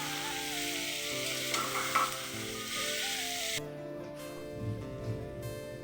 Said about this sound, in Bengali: মাটন যত ভালো করে কষানো হবে ততই কিন্তু বেশি টেস্টি হবে।